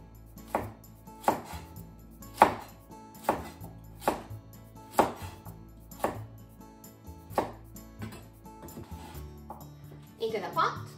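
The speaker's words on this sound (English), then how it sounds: "And let's just cut it into chunks." A knife cuts a carrot into chunks on a board, about ten steady thuds close by, followed by a brief clatter near the end, with faint speech in the background.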